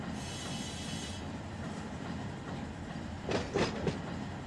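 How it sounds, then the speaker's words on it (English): A freight train in the Run 8 train simulator rolls downhill on an ATSF local with a little locomotive brake applied, giving a steady rumbling roll with a few brief squealing or clanking bursts near the end. "Going downhill a little bit. Put a little bit of the loco brake on."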